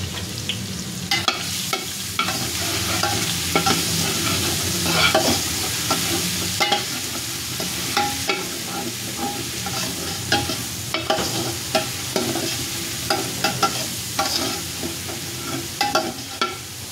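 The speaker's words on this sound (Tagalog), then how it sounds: "Medyo pipirituhin muna natin ang yung bawang hanggang sa pumula konti, hanggang sa mag golden brown." Crushed garlic sizzles steadily in reheated used cooking oil, close up, with frequent scraping stirs and small pops throughout and no talking.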